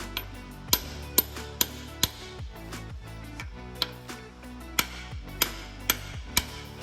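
Hammer blows driving stainless steel welsh plugs into an engine block, sharp metallic strikes with ringing decay, spaced irregularly about half a second apart, close and loud.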